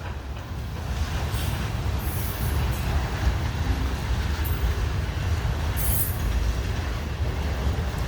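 A Norfolk Southern heritage unit train passing on the rails, a steady close rumble of wheels and cars with occasional high squeals, continuous throughout with no talk.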